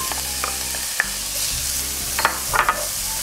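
Finely chopped carrots tumble into a pan of frying onions and garlic, a steady close sizzle with a low hum and a few sharp clicks and scrapes of stirring.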